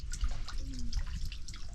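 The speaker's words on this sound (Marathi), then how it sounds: "त्या बघा गोमुखातून पाणी येते खाली आणि हे पूर्ण भरलेलं आहे" Water falls from a cow-mouth stone spout into a full rock-cut tank at a hilltop fort, giving close, quick drips and light splashes over a low outdoor rumble.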